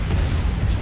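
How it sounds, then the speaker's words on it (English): A deep, rumbling explosion destroys a hypervelocity gun in a strategy video game, a sustained low boom that fills the whole short moment at close range. "Hypervelocity gun destroyed."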